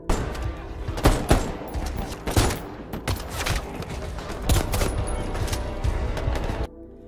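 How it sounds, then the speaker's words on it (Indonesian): Heavy gunfire in an action film shootout between soldiers and rebels: dense bursts of shots and loud cracks crowd the whole stretch, with several sharp peaks, before cutting off abruptly near the end. "tembak-tembakan"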